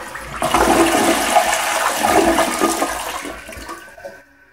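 A Kohler Highline toilet flushes with its lever held down: a loud, rushing swirl of water lasts about three and a half seconds, then tapers off as the tank empties.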